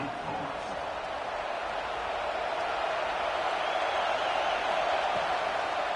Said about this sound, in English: Crowd gets loud.